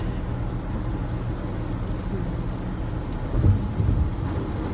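Steady rain falls outside, and a low rumble of thunder swells near the end. No one is talking.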